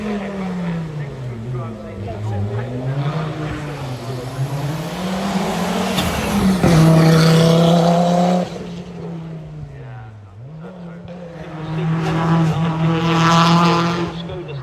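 A five-cylinder four-wheel-drive rally car with a full race engine of 250 to 300 brake horsepower howls loudly at a rally event, its pitch climbing and dipping through gear changes and a hard rev in the middle.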